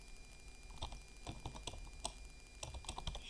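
Typing on a computer keyboard while working in a terminal, a run of quick, uneven clicks and key taps at close range with no talking.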